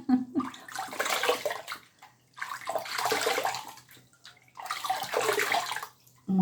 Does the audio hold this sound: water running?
yes